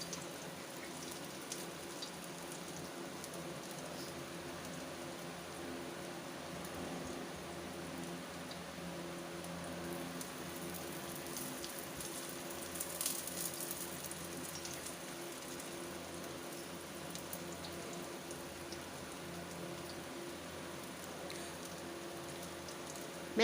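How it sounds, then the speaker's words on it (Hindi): Aloo seekh kebabs, potato kebabs shallow frying two at a time in a pan of oil, give off a soft, steady sizzle with faint crackles. The sound stays quiet and even for the whole stretch, with no talk. "मैं इसमें दो दो डालकर फ्राई कर रही हूँ।"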